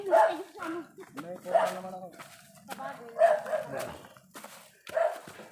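Dogs bark and yip in short bursts in a rural yard with banana plants, mixed in with people talking close by throughout.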